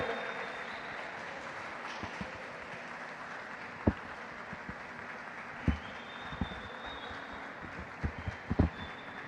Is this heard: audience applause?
yes